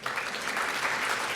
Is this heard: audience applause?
yes